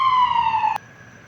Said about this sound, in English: Ambulances, police sirens.